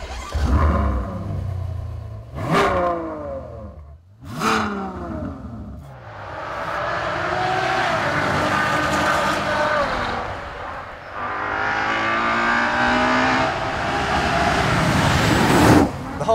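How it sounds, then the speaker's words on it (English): A Ferrari FF's 6.3-litre V12 fires up after a few seconds of talking, bursting into a loud, close-up roar, then settling into a steady, strong idle with a sharp rev blip near the end. "I think it's time to fire this beast up."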